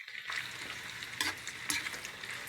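Isaw, chicken intestines, sizzles as it cooks and gets turned over, giving a steady frying hiss with two sharper bursts of scraping and spitting when the pieces are flipped; no one speaks.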